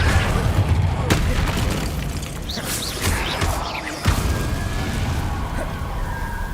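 Booming fire-spell blasts from a wizard video game erupt repeatedly over continuous rumbling game noise, with a player shouting spell names over the top.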